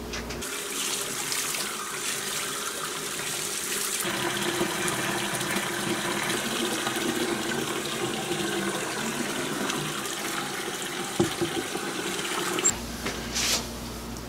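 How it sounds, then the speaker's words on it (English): Clean water rinsing a bowling ball in a bucket, a steady close wash of running, splashing water that holds throughout with small knocks near the end. "I'm gonna wash it with just a lot of just clean water."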